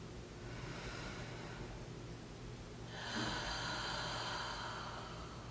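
Slow, deep breaths during an intense yoga stretch for the feet, a long soft exhale followed by a stronger, rushing breath close to the microphone, with no talking.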